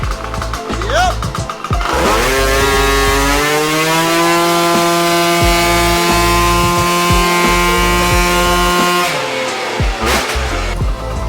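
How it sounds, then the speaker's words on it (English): A Gilera Runner scooter engine with a CVT revs up sharply on a dyno and holds a high, steady whine for several seconds, slightly over-revving, before dropping back down, loud and close. "I think it's over revving a little bit."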